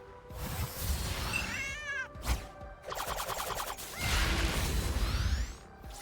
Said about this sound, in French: On va commencer par une attaque du chat